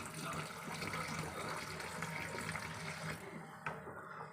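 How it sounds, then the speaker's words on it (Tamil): Water splashes and pours steadily while rice is washed, close and fairly quiet, with a brief clink near the end as the flow eases off. "அரிசி களைஞ்சி தண்ணி ஊற்றி கழுவணும்"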